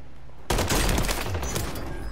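Enemy gunfire in a shooter video game starts abruptly as a dense, loud burst of rapid shots that continues without pause to the end.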